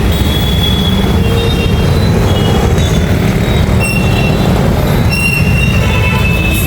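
A train rumbles loudly at a crowded railway station, with constant heavy rolling noise, clanking and thin metallic squeals over the top.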